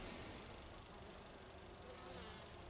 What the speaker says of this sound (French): Donc les abeilles sortent, elles rentrent avec des belles pelotes de pollen